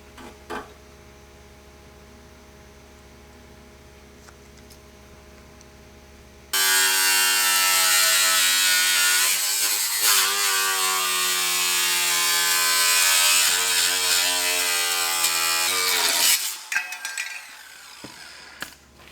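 A power tool cuts through the rear section of a truck fender, starting abruptly after a quiet stretch and whining loudly and steadily for about ten seconds before cutting off.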